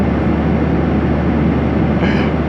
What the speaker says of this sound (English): We're on a plane.